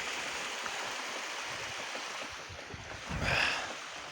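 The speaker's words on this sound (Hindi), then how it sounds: "ये कस्सी है जनाब, बर्फ गल के पानी आ रहा।" Snowmelt water from the mountains runs in a small spring-fed channel, a steady close rushing hiss with a brief louder splash near the end.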